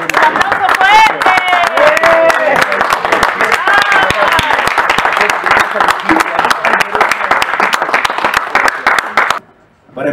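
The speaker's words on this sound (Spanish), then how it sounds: "Un aplauso fuerte." Audience at a Mapuche solidarity gathering in Oslo claps and cheers loudly and steadily for about nine seconds, with a few raised voices in the crowd, before the applause cuts off abruptly near the end.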